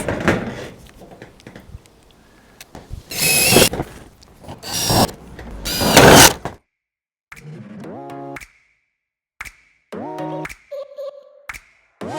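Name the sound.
power screwdriver driving screws into metal roof panels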